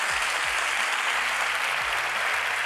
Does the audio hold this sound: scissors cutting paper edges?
no